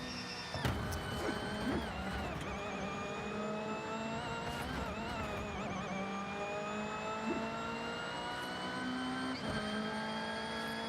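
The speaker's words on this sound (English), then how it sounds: "It's a racing game." Video game racing car engines drone and rev steadily, pitch climbing and dropping with gear shifts, broken by a few sharp thuds of impacts.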